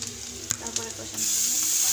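Spices for a koi fish curry sizzle and fry in a pan, a steady hiss with scattered spatula clinks that grows louder and denser partway through.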